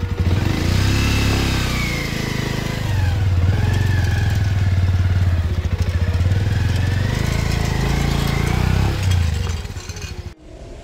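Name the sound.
motorcycle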